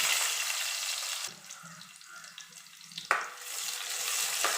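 Chopped onion sizzles and fries loudly in hot coconut oil, the hiss dropping briefly twice as something is stirred or added, then rising again.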